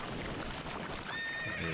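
A horse named Roach in a video game gives a short neigh that sits faintly over a low, continuous background rumble.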